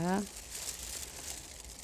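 A large plastic vinyl sheet used as a rain cover crinkles and rustles softly and steadily, following a brief voice at the start.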